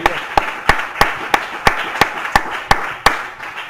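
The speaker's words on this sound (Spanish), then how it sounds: "Vamos a brindarle el fuerte aplauso." Church congregation gives a round of applause during a service. One close, loud clapper keeps a steady, even beat over a softer crowd.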